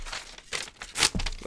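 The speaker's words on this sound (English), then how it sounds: "This is a Monday show rap, by the way, that I'm currently turning into a paper airplane." A sheet of paper is creased and folded into a paper airplane close by, giving several crisp crinkling bursts with short pauses between them and no voices.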